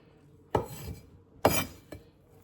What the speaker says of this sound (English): Just watching me chop this